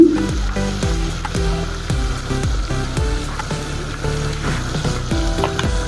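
Spices with red and green chilies fry in a hot pan for a Nepali-style pork gravy, a loud, continuous close-up sizzle broken by repeated scraping stirs.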